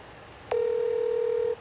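A telephone sounds one clear, steady electronic beep lasting about a second while a call is placed, with quiet room noise before and after.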